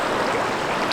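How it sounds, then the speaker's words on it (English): Takakkaw Falls in Yoho National Park, a tall, wispy waterfall, heard as a continuous loud broadband rush of falling water with no other sounds. "This is the wispy Takakkaw Falls in Yoho National Park."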